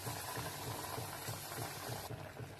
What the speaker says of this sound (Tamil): நல்லா கொதிச்சு வந்துருச்சு கிரேவி.